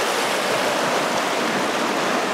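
A mountain stream runs over exposed bedrock, producing a loud, steady, close rush of water with an unbroken broadband hiss and no voices.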